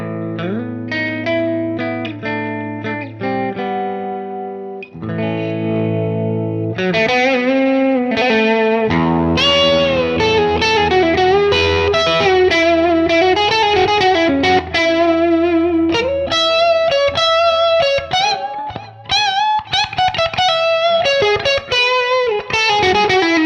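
Electric guitar played through a Metro-Plex MK II 100W amp with neck and bridge pickups combined, loud chorded and single-note playing with a driven, effected tone and reverb, continuous and alone.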